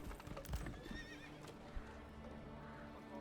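A horse in the medieval strategy game Manor Lords clip-clops with steady hoof beats and lets out a short whinny, set against a bed of ambient game sounds, with no talking.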